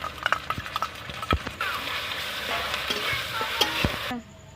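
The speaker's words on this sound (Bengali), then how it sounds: "এখানে আদা রসুনের পেস্টটা দিয়ে দিলাম আমি" Ginger-garlic paste frying for chicken chaap, with a steady sizzle under repeated scraping and stirring strokes against the pan and a few sharp utensil clinks, ending abruptly.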